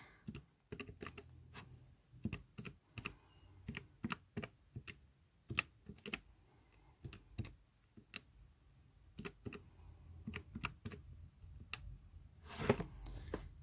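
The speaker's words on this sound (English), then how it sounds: "Again, it's just something you completely type into the calculator." Rapid, light plastic key presses on a calculator while numbers are entered for a geometric sequence sum: an irregular stream of close, crisp clicks over about fourteen seconds, with no talk.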